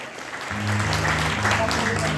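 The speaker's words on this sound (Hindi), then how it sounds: "एक बार जोरदार तालियां आदरणीय बड़े भैया नितिन गुप्ता जी के लिए" Loud crowd applause at a Khatu Shyam devotional kirtan swells in over sustained tones from the musical group's instruments, continuing thick and unbroken.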